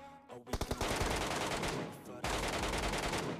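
Gunfire in the video game PUBG, a burst of rapid close shots followed by a sustained loud automatic spray that pauses briefly and resumes.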